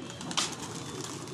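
Pigeons at a pigeon club loft give a short, soft coo over steady background hiss, with one brief louder noise burst partway through.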